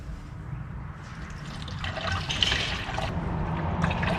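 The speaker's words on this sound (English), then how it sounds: "I'm going to put 4 litres of pink coolant to start with" Pink coolant pours through a funnel into a Toyota Hilux N70 radiator with the 1KD engine, a steady gurgling liquid rush that swells and bubbles partway through, close and alone.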